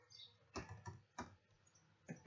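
Fingers tapping an import statement on a computer keyboard, a few quiet, separate clicks and short key bursts spaced unevenly, close and faint with no voice.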